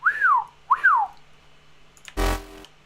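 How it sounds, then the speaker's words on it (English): Synthesizer passed through a comb filter effect in a studio: two swooping, whistle-like tones rise and fall, then a short, buzzy, harmonically dense burst follows, all clear and up close. "It must be that. It's the comb filter."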